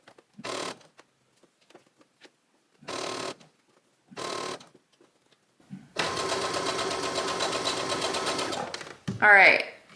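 Home sewing machine basting a dress collar with a long stitch, a steady three-second run of stitching after several short bursts of talk, with a brief clatter at the end.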